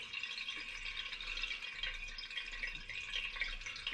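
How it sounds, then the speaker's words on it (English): Carrot water for home-brewed carrot and orange wine trickles and drips through a muslin cloth in a colander, a quiet, continuous patter of fine droplets heard close up. "That is basically carrot water dripping through."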